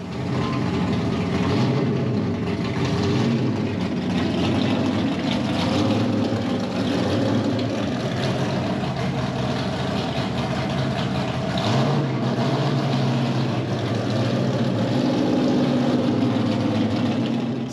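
Bobby Isaac's NASCAR race car sits idling, its engine giving a loud, steady, low rumble that holds without pause for the full stretch, close by and with no voices over it.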